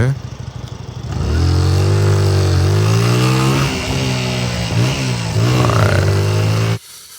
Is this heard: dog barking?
no